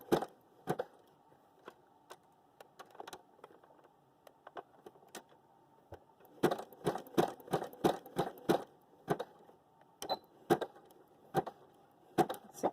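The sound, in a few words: sewing machine stitching fabric straps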